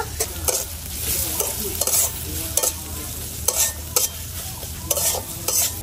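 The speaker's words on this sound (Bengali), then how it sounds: "পেঁয়াজ আর আদাটা ভালো করে ভাজা নিব।" Chopped onion and ginger fry in hot oil in a pan, with a steady sizzle broken by regular, sharp scraping strokes of a spatula stirring them, close and clear, with no talking.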